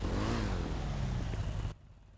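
A two-cylinder motorcycle engine in GTA roleplay revs hard and loud for under two seconds, its pitch climbing, then cuts off abruptly to near silence.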